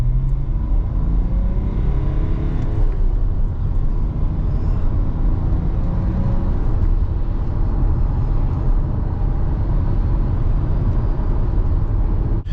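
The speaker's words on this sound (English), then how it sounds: "A 6-cylinder diesel just sounds so much better." A BMW E60 LCI six-cylinder diesel pulling hard under acceleration, a loud, steady, smooth engine drone heard from inside the car, with its pitch slowly rising and no one talking.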